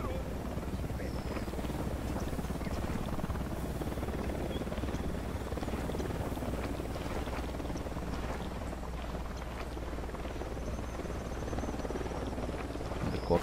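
Helicopter circling overhead in the game Ghost Recon Wildlands, a continuous low droning rotor rumble that holds steady throughout amid dense ambient game noise.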